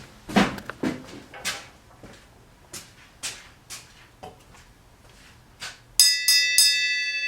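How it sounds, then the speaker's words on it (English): Several knocks and clatters sound, then a bright bell rings near the end, its metallic tone ringing out and lingering. "gotta ring the bell."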